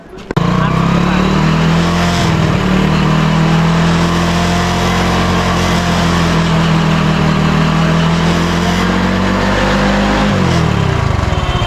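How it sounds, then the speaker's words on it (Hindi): Motorcycle engine running steadily and loud throughout, used to drive an alternator for generator testing, with a continuous low drone that starts abruptly and shifts slightly in pitch near the end. "तो चलिए गाड़ी को चालू करते हैं"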